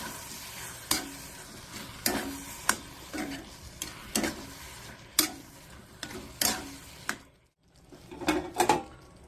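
A spoon stirs a mushroom tomato bhaji in a sizzling pan, scraping in regular strokes about once a second, with a short pause before a last quick pair of stirs.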